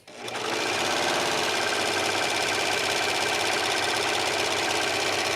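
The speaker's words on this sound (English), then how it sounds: "I'm going to put the needle about right there. And start stitching." A serger sewing machine stitches fabric with a fast, loud, steady mechanical whir and rapid needle chatter that starts up quickly and runs on evenly, close by and without talk.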